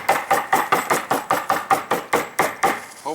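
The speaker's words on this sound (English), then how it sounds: "Hammer it down a little bit." A stake is hammered into a tarp for a teepee in a quick, even run of about eleven sharp, close blows, each decaying briefly before the next, with no talking.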